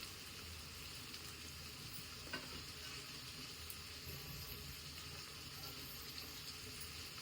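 Spice masala of pepper powder, sambar powder and salt sizzling and frying in a pan for mutton liver gravy, a steady soft crackle that runs the whole time with a faint stir partway through.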